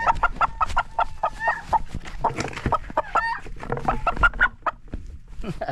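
Plump, heavy hens that have stopped laying cluck and squawk busily nearby, with overlapping calls and a few sharper cries throughout.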